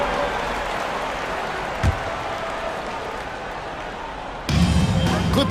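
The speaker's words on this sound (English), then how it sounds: "Give a round of applause for your kidding Clippers." Crowd applause in a basketball video game: a steady wash of clapping and crowd noise with a single thump near the middle and a louder swell of cheering at the end.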